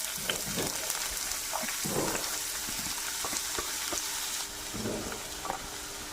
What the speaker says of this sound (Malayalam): ഒരു മീഡിയം സൈസ് സവോള ചെറുതായിട്ട് അരിഞ്ഞത് ഇതിലേക്ക് ഇടാം, എണ്ണയിലേക്ക് ഇടാം